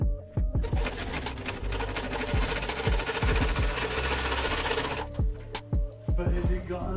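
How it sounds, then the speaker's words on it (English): A power tool cuts the nipple off a radiator, a loud rapid mechanical chatter that runs steadily for several seconds, then stops as sharp clanks and knocks follow. "I'm cutting the nipple off so the radiator can sit flatter."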